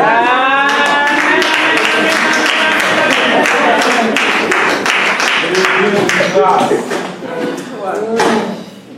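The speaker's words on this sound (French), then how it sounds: "Est-ce qu'on peut applaudir le Seigneur?" A church congregation applauds the Lord, a dense burst of clapping mixed with shouts and cheers that fades toward the end.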